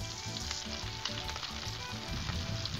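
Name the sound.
shrimp sizzling on a Blackstone griddle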